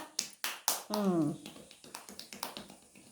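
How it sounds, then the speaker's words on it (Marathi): A few sharp claps near the start, then a sustained voiced tone over a run of lighter rhythmic taps. "टाळ्या वाजवा"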